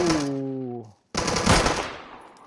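Gunfire in the video game Deadside: a burst of rapid shots, a short silence, then a sharp loud blast that decays into a rumbling tail, all close and without talk.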